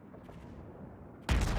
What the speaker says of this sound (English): And there is a big airstrike incoming